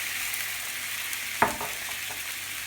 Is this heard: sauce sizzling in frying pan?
yes